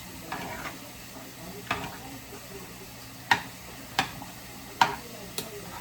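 Chicken and red peas stew being stirred in a packed pot, a utensil knocking against the pot in sharp, irregular clacks over a faint, quiet sizzle.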